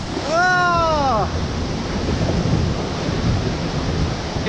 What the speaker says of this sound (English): It's in the dark and we are in a rapids ride and there's noodles everywhere.